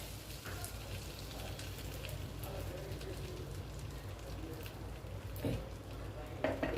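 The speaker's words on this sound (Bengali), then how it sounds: "দেখো এই চপ করে রসুনগুলো দিয়ে দিলাম" Chopped garlic cloves sizzling in a pan with melted fat, a steady, quiet crackle with occasional stirring scrapes and small pops throughout.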